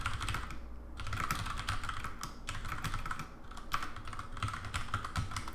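Fingers type quickly on a computer keyboard, a close, steady run of light clicking keystrokes with brief pauses between bursts.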